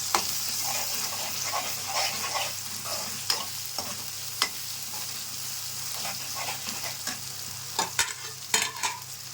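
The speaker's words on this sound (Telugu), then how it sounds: "పసుపు వేసిన తర్వాత ఇందులో అల్లం వెల్లుల్లిపాయ పేస్ట్ వేస్తాను" Ginger garlic paste sizzles in a pan of hot oil with turmeric and is stirred, giving a steady frying hiss under repeated scraping and knocking of the spoon, close and clear, with no speech.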